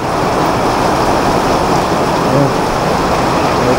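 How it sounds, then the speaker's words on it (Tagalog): Heavy rain pours steadily and loudly, a dense unbroken roar that fills the whole clip, heard from indoors with no voices. "Lakas ng ulan."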